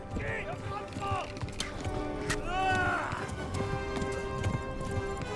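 Hooves clip-clop steadily from a horse in the medieval video game Kingdom Come: Deliverance, mixed with whinnies and game voices and music over a busy background.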